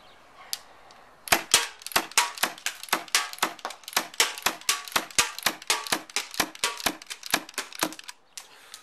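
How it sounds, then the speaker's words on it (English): A Tokyo Marui HK MK23 SOCOM airsoft pistol fitted with a suppressor fires a rapid string of about two dozen sharp, close snapping shots after a short quiet start, with no talk. "And now we have the suppressor for final shooting test."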